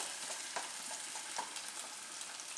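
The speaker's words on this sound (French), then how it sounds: "Et là vous allez les laisser frire pendant quelques minutes" Rice vermicelli fries in hot oil in a pan for a vegetable and tofu chop suey, giving a soft, steady sizzle dotted with faint crackles, heard alone and at low level.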